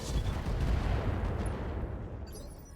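Mech weapons unleash an alpha strike in the RogueTech mod for BattleTech, a dense barrage of overlapping gunfire and artillery-like blasts forming a continuous rumbling roar that tapers off slightly.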